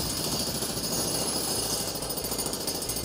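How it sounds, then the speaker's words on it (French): A jackhammer pounds asphalt in rapid, unbroken percussive blows, loud and close, running steadily through the whole stretch with no voices. "Vous savez ce que c'est, ça? C'est un marteau-piqueur."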